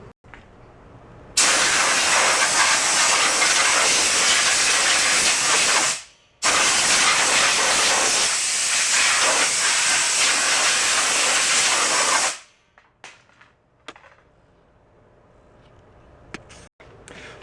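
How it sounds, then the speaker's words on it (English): Compressed air blasting out Ariens snowblower parts: two loud, steady hissing bursts of about five and six seconds, separated by a brief pause, followed by quieter clicks and handling. "Might blow it out with compressed air first too to kind of clean it up."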